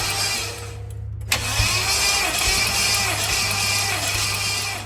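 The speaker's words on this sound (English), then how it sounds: "just doing a little compression test on Nick's car just to make sure everything's good because it's a stock engine" Stock Coyote V8 in a Ford Mustang cranking on the starter during a compression test, a steady low churning drone throughout with a brief dropout and click near the start, close and fairly loud.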